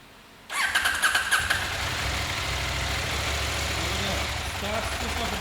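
A KTM 890 motorcycle fires up after a starter relay repair, a short cranking burst giving way to a steady, close idle that holds through the rest of the moment.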